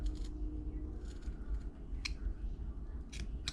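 A carving knife cuts into a wood block while a head is being carved, giving a few short, crisp scraping and snicking strokes spaced irregularly over a low, steady room hum.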